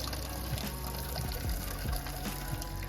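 Tap filling a container with low-pressure water, a continuous thin trickle and gurgle with small repeated bubbling pulses, close by.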